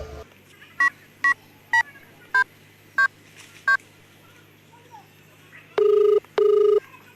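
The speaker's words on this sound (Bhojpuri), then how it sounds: "तनी मोबाइल में फोन कर ले" A mobile phone dialing a call: six short, evenly spaced keypad tones, then a pause before two longer ringing tones, clear and close over faint background hiss.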